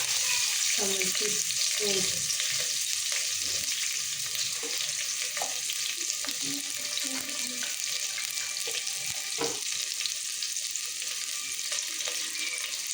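Onions sautéing in a pan for ghee rice with egg roast, a steady close frying sizzle with scattered stirring scrapes and clinks throughout.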